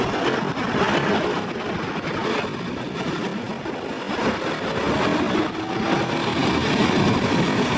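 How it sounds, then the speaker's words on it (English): Car engines rumble and rev across an icy, snow-covered downtown during a polar vortex, a loud broadband drone with wind-like hiss and no distinct single vehicle standing out. "You can hear the engines revving all across downtown."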